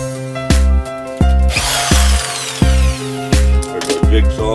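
A jigsaw powered through a 2000-watt inverter in a van conversion runs in about six short, loud bursts with a whining motor and a rough cutting buzz, separated by brief pauses.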